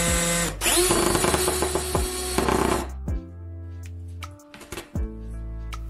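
Power drill with a screw held on its bit by masking tape, driving it in: a loud whirring run for about three seconds with stuttering pulses, then several short, fainter bursts of the motor spinning.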